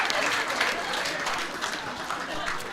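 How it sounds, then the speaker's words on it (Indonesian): A church fellowship audience applauds steadily for about three seconds, dense clapping close and loud with crowd voices mixed in. "Beri tepuk tangan dulu."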